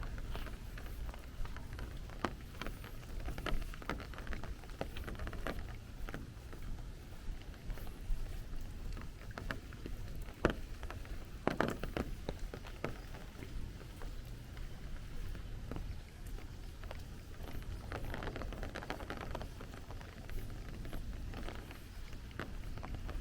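Heavy rain pours steadily onto a Bay Ridge, Brooklyn street during a thunderstorm, a dense continuous hiss with scattered louder splashes and drips close by.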